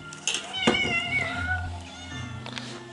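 A cat meows close by, one drawn-out wavering cry, over faint background talk and room noise during Christmas morning.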